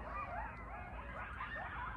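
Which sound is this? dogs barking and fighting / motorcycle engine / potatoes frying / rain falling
dogs barking and fighting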